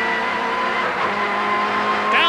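A 1990 BTCC touring car pulls hard out of a corner at Silverstone, heard from inside the cabin as its engine winds up steadily through the gears, loud and continuous with a brief high squeal near the end.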